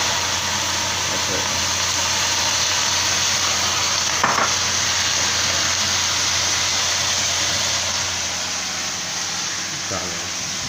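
Kale and fish fry together in a hot pan, giving off a loud, continuous, hissing sizzle that holds steady throughout with a few faint clinks. Someone speaks intermittently over the frying.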